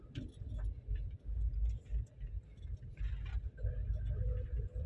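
A car drives in third gear during a driving lesson, its engine a low, steady rumble with a faint ticking and a few soft knocks inside the cabin.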